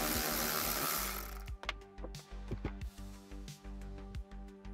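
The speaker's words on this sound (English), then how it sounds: "there's another 7mm bolt there. You will loosen that." A power tool spins out a 7mm bolt on the seatbelt panel of a Camaro, starting with a steady whirring buzz that gives way to a series of short, uneven bursts of motor noise and clicks, close by and with no talking.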